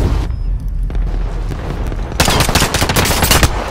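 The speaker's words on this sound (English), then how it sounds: "Steven, hostile fire." Hostile gunfire rattles in a Call of Duty Warzone gulag fight, with a loud burst of rapid automatic shots and booming impacts dominating the second half over constant game background noise.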